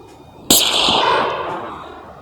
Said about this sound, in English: The rifle is very well built and the suppressor did a great job at reducing the sound and the recoil